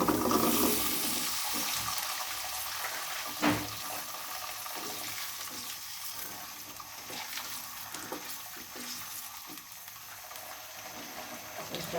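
Chopped garlic goes into a pan of raw oil, making a crackling sizzle and bubbling that starts strong, then settles into a softer steady fry. A single knock is heard partway through, and no one speaks.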